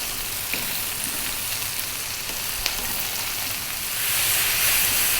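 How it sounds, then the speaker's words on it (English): Steady sizzling and crackling from cabbage stir-frying in a hot pan, with occasional stirring clinks, growing a little louder toward the end. "What we're going to do is go for about 4 to 5 minutes stir frying this around."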